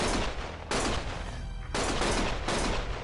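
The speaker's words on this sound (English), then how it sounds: "Stop shooting!" Loud bursts of rapid gunfire from the video game Lost Judgment come in two or three long, dense volleys with brief breaks between them, close and harsh.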